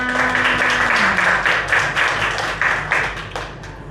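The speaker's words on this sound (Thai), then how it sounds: "ขอเสียงปรบมือด้ค่ะ" An audience at a kindergarten school talk-show event claps together, a run of fairly loud, rhythmic group claps that slowly thin out toward the end.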